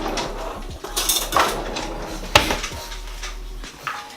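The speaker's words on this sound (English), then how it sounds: "Now I've changed to a metal spoon because it's cutting through the mixture a little bit easier" A metal spoon scrapes and knocks around a bowl of stiff clootie dumpling mixture, with irregular clinks and dull scraping strokes at close range and no talk.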